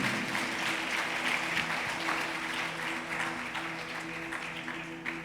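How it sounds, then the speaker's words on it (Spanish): A church congregation applauds during a Spanish-language sermon, a dense, steady wash of many hands clapping that fades slightly, with sustained musical tones beneath it. "Dele un aplauso al Señor si usted está entendiendo."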